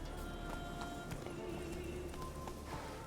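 Horse hooves in Witcher 3, a quick clip-clop of galloping under a faint game ambience, steady and close for the few seconds heard.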